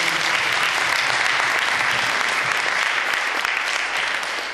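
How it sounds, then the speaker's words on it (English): A large audience applauds Tom Joyner in a continuous, dense roar of clapping, loud and even throughout before easing slightly at the end. "another round of applause for Tom Joyner"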